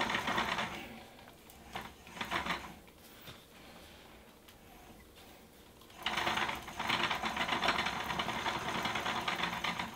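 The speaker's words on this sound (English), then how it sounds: "when I do start to reel in my mono, I do try to give it a little bit of a resistance" Mono backing line winds onto a fishing reel spool for striper fishing, a soft mechanical whirring that comes in short bursts and then runs steadily, quiet and close.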